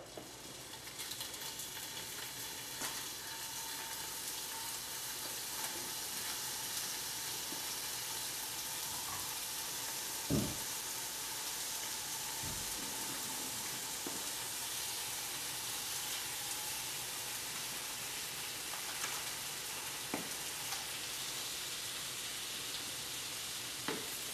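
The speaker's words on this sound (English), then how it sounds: "And then I'm going to put them into the pan that's already heated up." Seasoned pieces laid into a preheated pan after a dusting of McCormick Grill Mates Smokehouse Maple, giving a steady, fairly faint sizzle with a couple of short clunks, no voices.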